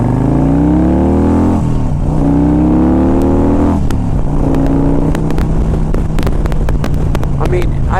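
A 2001 Harley-Davidson Ultra Classic motorcycle accelerating on a highway, its engine rising in pitch through repeated gear changes, with someone talking over the engine noise.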